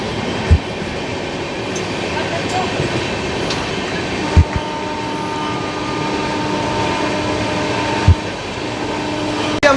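An Indian express train runs along the railway with a loud, continuous rolling rumble, broken by a few sharp clanks at rail joints spaced several seconds apart.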